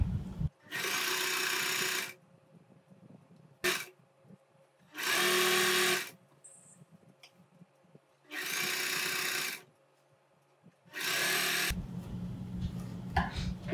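Sewing machine stitching churidar cloth a quarter inch from the edge, running in four steady bursts of about a second and a half each, with quiet pauses between them and no talking.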